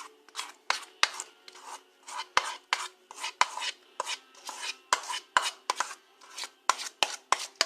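A spoon or spatula spreading cheesecake filling around a pie crust in a dish, with steady repeated scraping and smearing strokes in an uneven rhythm, close and fairly loud, with no talk.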